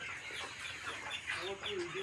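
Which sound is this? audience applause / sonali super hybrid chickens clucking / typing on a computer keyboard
sonali super hybrid chickens clucking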